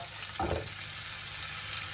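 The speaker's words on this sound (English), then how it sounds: "I'm going to add a little bit of water." Water poured into a hot pan holding leftover ginger, spring onions and garlic, giving a brief hissing sizzle that rises sharply and fades within a second over a steady frying background.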